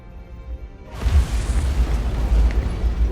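An antimatter charge explodes aboard a ship in Halo: Combat Evolved, a sudden heavy boom after a quiet second that rolls on as a deep, rumbling roar, loud and near, with no talking.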